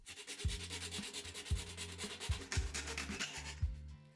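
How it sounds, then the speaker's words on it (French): A hacksaw cuts through the lower part of a round plastic vitamin box in quick, rhythmic back-and-forth strokes, close and fairly quiet with no talking. "À l'aide d'une scie à métaux, on découpe la partie marquée."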